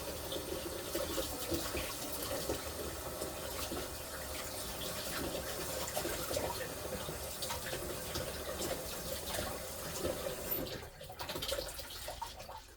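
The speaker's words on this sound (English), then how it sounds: "I'll just place this into the sink. And I'll turn the water on." Water runs steadily from a kitchen sink tap onto dishes set in to soak, a continuous close splashing rush that dips briefly near the end before resuming.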